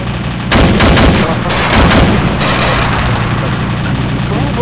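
Loud, close bursts of gunfire in the combat game ArmA 2 ACE, a rapid string of sharp shots and booming reports crowding together over constant background noise.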